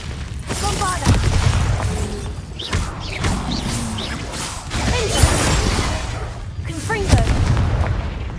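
Explosive bursts from the Bombarda spell in Hogwarts Legacy, several loud booms at irregular intervals amid constant battle clatter, with a voice speaking over the action.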